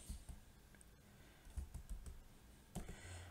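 Quick bursts of typing on a computer keyboard, close and fairly faint, with irregular clusters of key clicks and brief pauses, no talking.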